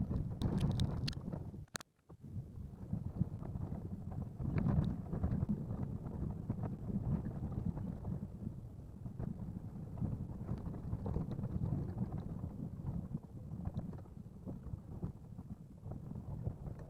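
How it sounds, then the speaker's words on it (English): Wind gusting across an exposed winter ridge, a low rumbling buffet that fills the whole stretch, steady and moderately loud against the microphone, with a few sharp knocks near the start. "Let's see what the uncooperative wind is doing now."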